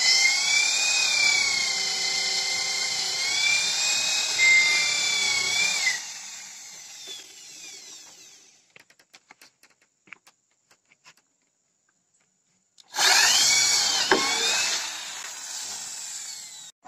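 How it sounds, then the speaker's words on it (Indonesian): Drilling rig boring holes for building pillars on a site for a four-storey semi-permanent house, a loud whining, grinding motor running steadily for about six seconds, stopping with scattered clicks and knocks, then starting up again loudly near the end. "proses pengeboran tiang"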